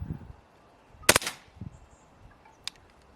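A gas-powered BB gun fired through a chronograph gives one sharp, close crack with a short tail, followed by a couple of faint, small clicks in an otherwise quiet setting.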